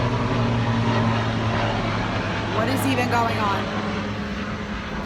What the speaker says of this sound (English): Helicopters. We're in like a helicopter line.